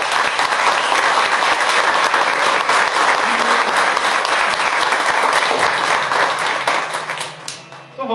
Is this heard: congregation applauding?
yes